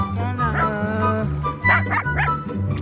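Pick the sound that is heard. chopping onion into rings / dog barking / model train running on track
dog barking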